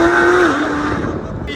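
A loud, close Formula 4 race car engine roars at a high pitch, its tone dropping slightly as it drives past.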